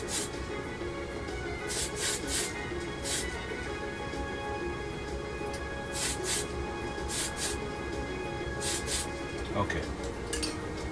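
Spray paint hissing onto a Revell Ford D-100 model kit in short repeated bursts, some in quick pairs, close to the microphone against a faint background hum.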